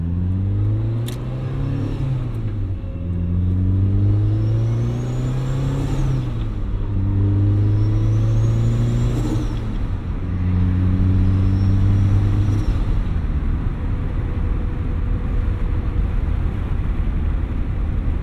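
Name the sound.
turbocharged Mazda Miata engine during a drive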